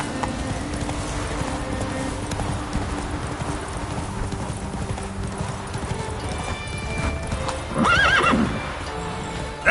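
Roach, a horse in the video game Witcher 3, gallops with steady clip-clop hoofbeats under game ambience, then lets out a loud neigh near the end.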